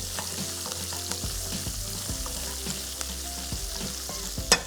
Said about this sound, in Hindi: यहाँ पाइनएप्पल मज़ेदार कलर पे आते जा रहे हैं, इसको थोड़ा सा फ्राई करेंगे।